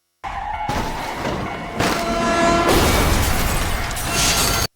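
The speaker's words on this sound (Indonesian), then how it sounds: "bis tersebut mengalami sebuah kecelakaan dan menyebabkan semua penumpang yang ada di sana tewas" A bus crashes in an accident, a loud burst of crashing and scraping noise with a sharp impact partway through, then continuing rough noise, no voices.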